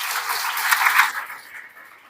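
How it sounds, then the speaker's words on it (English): Audience applause breaks out to welcome a speaker at a public speaking event: a dense wash of many hands clapping, steady for about a second, then thinning and fading away. "Please welcome her with a huge round of applause"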